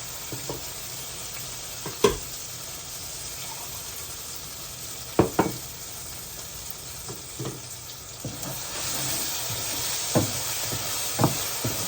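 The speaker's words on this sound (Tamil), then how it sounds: "இதையும் போட்டு எண்ணெயில் வதக்கி கொள்ளுவோம்" Paste of ground poppy seed, tomato and cashew sautéing in hot oil for ivy gourd gravy, a steady soft sizzle with occasional spoon knocks and scrapes against the pan, growing slightly louder toward the end.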